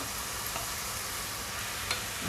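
Onion and chopped tomatoes frying in a pan, giving a soft, steady hiss of sizzling with a couple of faint ticks.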